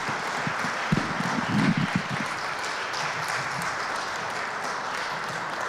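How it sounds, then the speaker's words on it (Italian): Audience applause at an evening concert in Florence's Palagio di Parte Guelfa, greeting a singer and her guitar accompanist: a steady, fairly distant wash of clapping that holds evenly throughout, with a few louder claps near the start. "Questo meritatissimo applauso era per Annalisa Tognaccini e per il suo acc"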